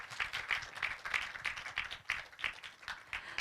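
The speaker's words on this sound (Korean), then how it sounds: "네, 여러분 박수로 맞이해주시기 바랍니다." Audience applause greeting award winners at a Korean online journalism awards ceremony, a steady moderate patter of many hands clapping, fairly distant.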